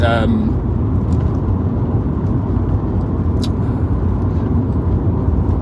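A BMW E85 Z4 with a 3.0-litre M54 engine idles with a steady low rumble, close and constant, with a brief hiss and a voice at the very start.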